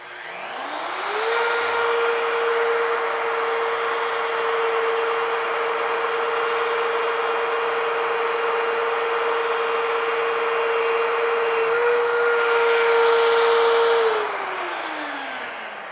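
A Vevor magnetic drill spins up and drills through metal, a steady loud motor whine with a rising start and falling wind-down at the end, continuous for about fourteen seconds.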